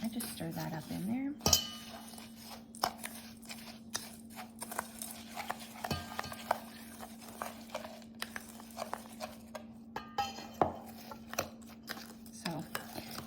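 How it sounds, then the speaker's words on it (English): A spoon stirs a wet breadcrumb mixture for tofu meatballs in a bowl, giving quiet irregular clinks and scrapes over a steady low hum, with a sharp knock early on. "And then I just stir that up in there."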